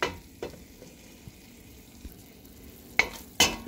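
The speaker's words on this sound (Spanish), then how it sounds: "Vamos a freírlo un ratito y luego le agregamos el chile molido." Onion and tomatillo fry in a pan with a faint, steady sizzle, broken by a few sharp knocks and scrapes from stirring. No one speaks.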